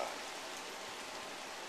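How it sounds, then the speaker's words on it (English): A video game rainstorm hisses as a steady, even wash of rain, soft and continuous with no voices over it. "All right, now it's raining."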